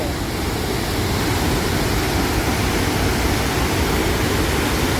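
Bhedaghat waterfall in India, a loud, dense, continuous roar of falling water heard close up, steady and unbroken throughout.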